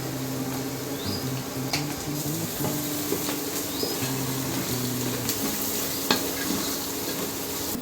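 Masala for misal sautéing in a pan, with a continuous sizzle and repeated scraping strokes of a spoon while it is stirred, plus occasional sharp clinks.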